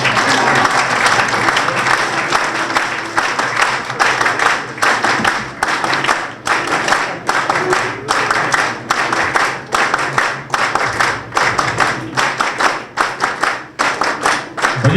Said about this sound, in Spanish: José María y Aldo recibirán una ovación agradeciendo su presencia